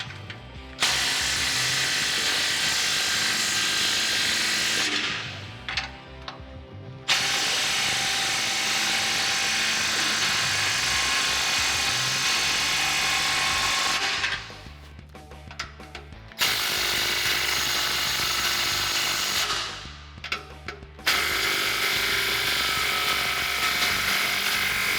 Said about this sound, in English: I can take my 15 millimeter socket on my impact gun and go through and start tightening up all my clamps fully